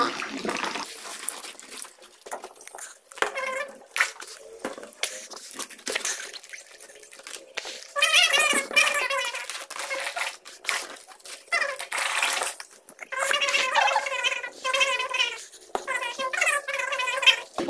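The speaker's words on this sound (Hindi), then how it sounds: "और इसके अंदर हम डाल देते हैं पानी को।" Water poured by hand into a balloon, a gurgling, trickling splash with uneven bursts and pauses, fairly close and soft.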